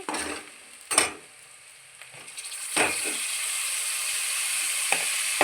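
Tomatoes hit hot oil in a pan for ugani bajji, bursting into sharp sizzles as they drop in, then settling into a steady, close frying hiss with occasional spoon stirs.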